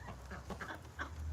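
A hen clucks in a chicken coop where she is about to lay an egg, several soft, close clucks in a loose rhythm over a low background hum, with no talk.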